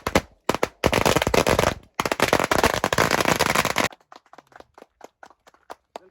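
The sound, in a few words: firecrackers set off as a welcome in a grape orchard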